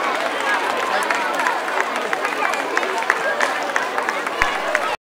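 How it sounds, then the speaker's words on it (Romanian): Children clap with all their strength in a theatre before a Little Red Riding Hood play, a dense steady crowd applause lasting throughout with some chatter mixed in. "Pentru a-i chema pe actori pe scenă, copiii au aplaudat cu toată puterea lor."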